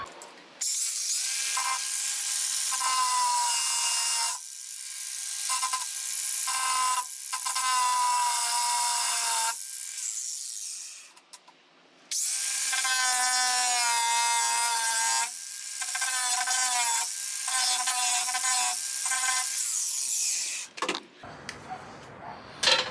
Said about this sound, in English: Grinding disc on the angle grinder.